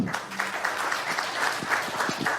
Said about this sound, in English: That deserves a big clap.